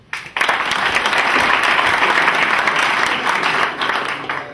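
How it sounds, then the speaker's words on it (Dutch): A roomful of club sponsors at a football club's stew buffet gives a warm round of clapping, starting abruptly, staying loud and dense throughout, then tapering slightly at the close. "Dames en heren, graag een hartelijk applaus"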